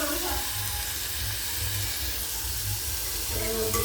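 Onion frying in a pan, a continuous close hiss and sizzle with a low steady hum beneath and faint voices in the background.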